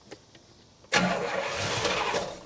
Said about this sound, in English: I'm gonna go ahead and crank on the engine and see if we're getting fuel